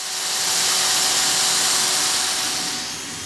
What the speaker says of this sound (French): La fraiseuse, c'est une perceuse qu'on a adaptée